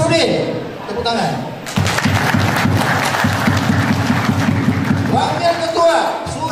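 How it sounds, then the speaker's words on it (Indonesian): Applause at an installation ceremony for a new organisation board, with clapping mixed under a loud announcer's voice over a PA and some crowd noise, continuing through most of the moment. "Tepuk tangan."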